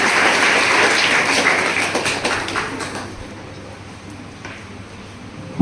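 Audience applause at a village school's felicitation ceremony for a newly appointed police officer, a broad crowd clatter of many hands that fades over several seconds.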